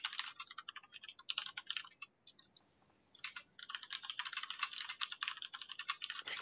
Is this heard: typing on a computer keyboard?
yes